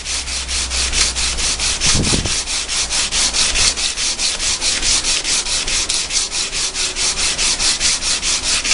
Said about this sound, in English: It's starting to shine up now with just sandpaper.